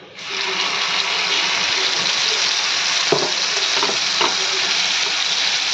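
Onion, peanut and lightly browned green chili paste sizzles loudly and steadily in hot oil, with a few faint scraping clinks partway through.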